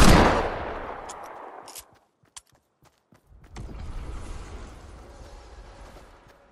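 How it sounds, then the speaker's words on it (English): Gunfire in the video game Fortnite: a loud blast rings out and decays, followed by a few sharp isolated shots, then a rumbling burst of fire that trails off. "Gunfire! Why the gunfire?"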